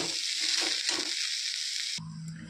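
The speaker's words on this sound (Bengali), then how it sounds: "ভালো করে মিশিয়ে নিয়ে 2 মিনিট কষাতে থাকবো।" Sizzling stir-fry of a lentil and banana stem curry mixture in a pan, a steady close hiss with soft scraping stirs for two seconds, then a quieter simmer with a low hum.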